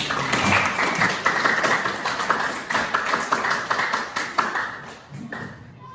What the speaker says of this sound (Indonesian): tepuk tangan di sini kalian.